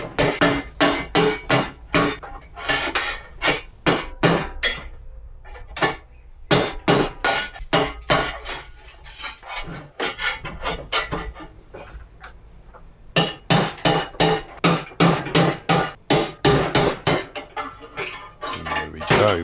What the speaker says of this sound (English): Trying to get them out of the old frame, I'm just hammering against air.